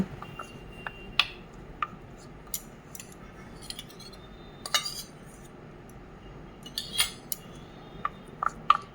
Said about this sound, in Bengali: এটাকে গুলে নেব ঘি আর কর্নফ্লোরটা ভালো করে গুলে নেব